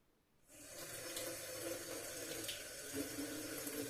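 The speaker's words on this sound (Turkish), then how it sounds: "Şu lenslerimi yıkayayım." Water gushes from a tap to rinse contact lenses, starting abruptly after a brief quiet moment and then flowing as a steady, close, moderately loud hiss until the end.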